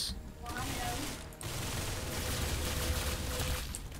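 Rapid gunfire in the Roblox game Arsenal, a dense continuous rattle of shots with mechanical reload clicks, steady and loud throughout with faint voices underneath.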